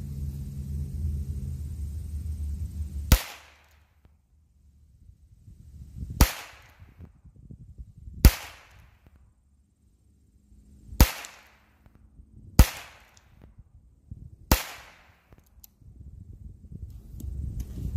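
Six sharp gunshots from a cheap .22 rifle fired outdoors at irregular intervals of a few seconds, each a loud crisp crack with a short fading tail, over quiet low rumble between shots.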